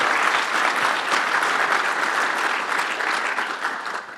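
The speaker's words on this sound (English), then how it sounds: "let's give an awesome round of applause for making the trip and sharing a talk" A conference audience at a PyCon AU talk breaks into loud, sustained applause, dense clapping that holds steady for several seconds before easing slightly at the end.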